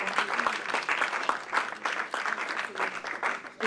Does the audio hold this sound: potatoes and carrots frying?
no